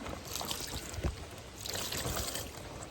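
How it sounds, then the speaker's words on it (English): Running water splashes and rinses soap off cabbage leaves, a continuous close wash of watery hiss with a brief louder splash partway through. "So then I washed it with the soap and then I rinse it off."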